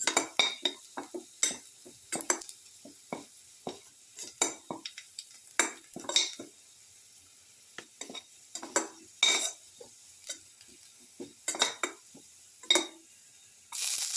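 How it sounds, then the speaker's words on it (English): Utensil stirring and scraping in a pan while sauteing for a black pepper fish tamarind stew, a steady run of close, sharp clinks and scrapes with a faint sizzle beneath. "Keep on sauteing."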